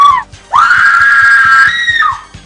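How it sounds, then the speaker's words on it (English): A woman's scream from a 1984 horror film scene, A Nightmare on Elm Street, set in a night-time alley: a short cry, then one loud, sustained, high-pitched scream lasting about a second and a half before it trails off. "I was screaming at the top of my lungs running down this alley"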